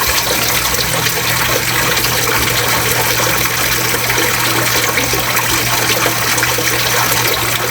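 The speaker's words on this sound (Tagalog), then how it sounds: "Sige, tuloy tayo sa paglagay ng tubig doon sa rip tub na paglalagyan natin ng tilapia." Water pours steadily into a tub being filled for small tilapia, a constant close splashing rush with a low hum underneath and no pauses.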